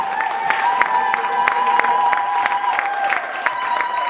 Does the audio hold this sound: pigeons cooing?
no